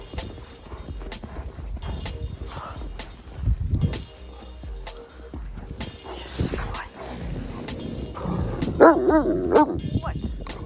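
A puppy playing in snow during a snowstorm, giving scattered short barks and yips with some whimpering, close by, while a person talks to it.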